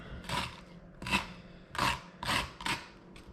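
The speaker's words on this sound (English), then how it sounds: "Just take a spoon like this and literally scrape it off. Scrape the seeds out." Metal spoon scraping seeds and stringy pulp out of a halved spaghetti squash, five close, distinct rasping strokes in an uneven rhythm with no talking.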